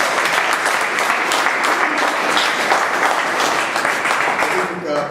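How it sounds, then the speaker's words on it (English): Loud, sustained applause from a club meeting audience, a dense wash of clapping filling the full five seconds with murmured voices mixed underneath. "A big round of applause for Prakash"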